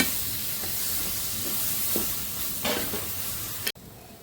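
Tomatoes hitting hot masala in a pan and frying with a steady, close sizzle and occasional stirring scrapes, then a sudden cut to near silence at the end.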